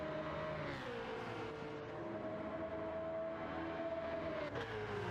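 GT3 race car engine in a racing video game, a steady high whine held for several seconds with a slight shift partway, heard faintly and alone.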